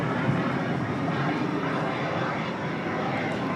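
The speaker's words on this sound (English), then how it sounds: "That's flight 930 coming in from Washington" An airliner arriving at Dallas Love Field airport, with a steady, broad engine roar at moderate distance that holds throughout without clear speech.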